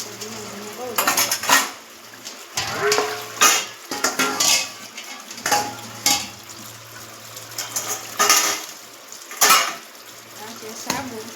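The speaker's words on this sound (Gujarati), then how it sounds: "વાસણ ધોઈ નાખો" Dishes and utensils are washed under a slow-running tap, with loud clattering of steel pots, plates and cutlery coming in bursts over a low, steady hum, close and busy throughout.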